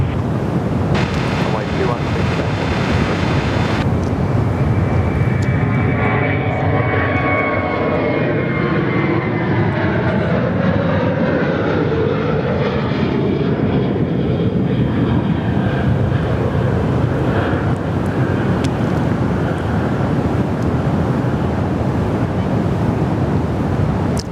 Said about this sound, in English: Qantas 652 off to Sydney